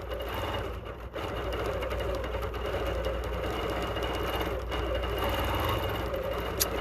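A Bernina Q16 sewing machine runs steadily through free-motion quilting, a loud continuous motor whir with rapid needle chatter that barely changes in pace and has no talk over it.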